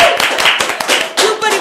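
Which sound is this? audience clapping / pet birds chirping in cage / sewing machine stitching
audience clapping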